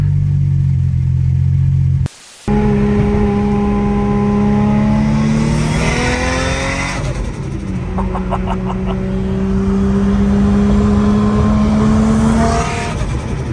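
A Nissan Skyline engine revs loudly and climbs in pitch, drops briefly, then roars back up and holds a steady high drone, close by.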